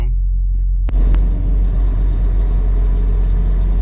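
A car pulling out of a parking lot in New Brunswick, Canada, heard from inside as a steady low engine and road rumble with a brief knock near the start; speech sounds faintly under it.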